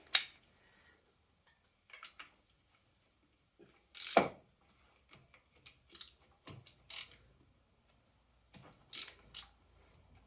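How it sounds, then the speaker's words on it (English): A ratchet socket wrench loosens the spark plug on a Reliant Scimitar GTE that fails to start, sounding as scattered, faint clicking bursts and short pawl rattles with quiet gaps in between. "I'm going to get a socket a moment and get that undone"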